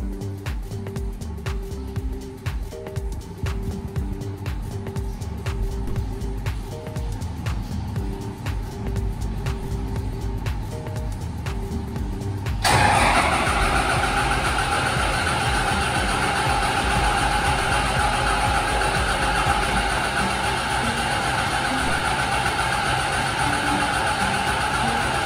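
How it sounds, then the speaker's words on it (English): A fire pump diesel engine that fails to start: a rapid mechanical clatter for about half the span, then a sudden switch to a loud steady broadband roar, like an alarm or air rush, that lasts to the end. "Engine failed to start."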